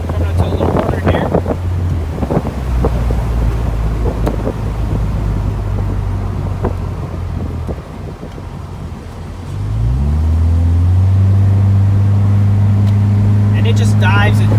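A 1997 Honda Civic Del Sol Si cruises a back road at about 55 mph, its steady engine drone and wind rush loud throughout, dipping briefly before the engine note rises again.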